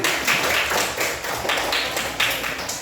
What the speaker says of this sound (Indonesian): Tepuk tangan untuk Ardi